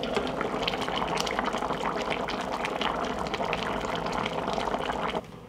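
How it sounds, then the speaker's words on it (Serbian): Stew in a covered pot at a steady, vigorous boil, a dense continuous bubbling and gurgling heard close up with no voices. "Poklopit ću i od momenta kada proključa kuvat ću 40 minuta"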